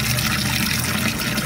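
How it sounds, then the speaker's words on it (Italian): Water gushes steadily from a garden tap opened by a 2018 Zemismart electronic smart valve, a continuous even hiss of flow close by with no talk. "accendo il dispositivo rubinetto"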